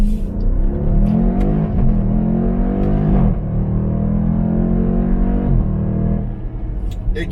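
2020 Dodge Durango SRT, a nearly 500-horsepower engine, accelerating hard from inside the cabin, a loud rising roar climbing through rapid upshifts with brief dips between gears.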